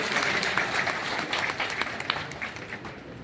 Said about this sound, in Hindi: एक बार हाथ उठाकर योगी जी के लिए तालियां बजा दीजिएगा सारे लोग